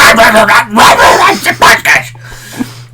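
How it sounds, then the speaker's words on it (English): A dog barks several times on a phone answering-machine message, sharp yips and bow-wows heard close and loud, with a person talking around and between the barks. "that was just his dog"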